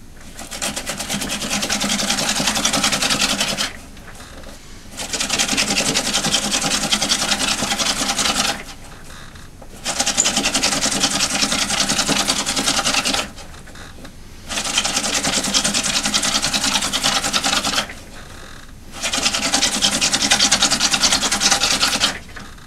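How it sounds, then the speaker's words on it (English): A piece of slate is drilled in five steady, rasping, grinding bursts of a few seconds each, separated by short pauses. The sound is close and loud. "I have a piece of slate. It's a 3 on the hardness scale. I'm gonna drill a hole in it."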